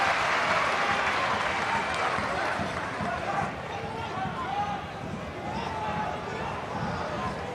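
Home crowd at a Motherwell versus Rangers football match cheering and applauding in a large stadium, a broad sustained roar with clapping that holds steady throughout.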